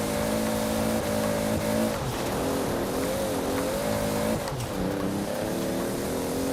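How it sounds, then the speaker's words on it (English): Steady, loud engine drone of a car in Forza Horizon 4 with wheels spinning, the revving pitch wavering up and down continuously with no gaps. "A lot of wheel spin"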